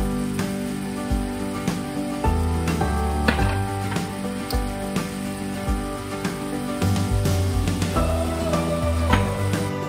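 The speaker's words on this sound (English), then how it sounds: "So now we're just gonna let our ground beef do its thing and cook with those onions" Ground beef and onions sizzling in a pan, a steady crackling fry with occasional clinks of stirring, fairly close and continuous with no talking.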